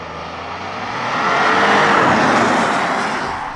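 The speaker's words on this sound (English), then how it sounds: "Automatic, Sport Plus, traction on, sport response launch control." A 2024 Porsche Cayenne in Sport Plus launching with launch control: a loud, steady engine roar that swells to a peak midway and then eases, heard from inside with no talking.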